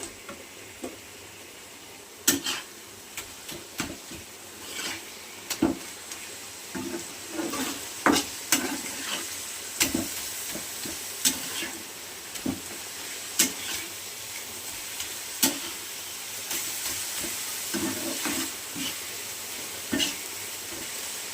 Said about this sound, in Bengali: এইভাবে ভাজতে থাকবো আমি কিছু সময় ধরে